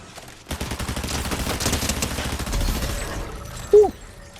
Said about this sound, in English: Recoil on this gun is crazy.